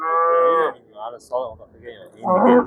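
Cattle at a livestock market in Jizzakh's Do'stlik district give two loud, drawn-out moos, one at the start and one at the end, with brief voices and market noise between them.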